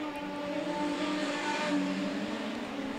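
Production sedan race cars engines droning steadily through a heat on a racing circuit, a continuous loud mix of several motors with sustained tonal whine, no voices.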